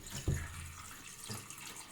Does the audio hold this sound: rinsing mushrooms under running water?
yes